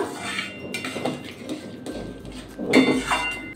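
A utensil scrapes and clinks against a pan while chhena is stirred with sugar for a sweet dish, giving irregular close metallic taps and scrapes with brief pauses between them.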